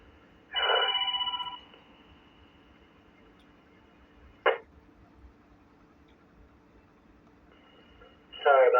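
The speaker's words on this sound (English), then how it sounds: "The phone rang." A telephone rings during an amateur radio net, giving one trilling ring burst, a short click-like blip several seconds later, then another ring starting. It sounds moderately close over low background hiss.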